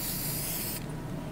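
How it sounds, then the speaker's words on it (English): In the video game Fortnite, an alien spray is applied with a steady bright hiss that cuts off abruptly partway through, leaving a duller background wash. "There's an alien spray for you."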